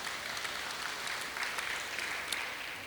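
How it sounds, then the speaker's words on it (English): Audience at a presentation claps steadily, moderately distant and fairly quiet, a continuous wash of applause with no talking. "give it a round of applause"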